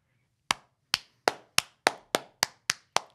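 Nine sharp claps land one after another at a steady, slightly quickening pace, each a crisp isolated snap with a short decay, loud and close with no voices.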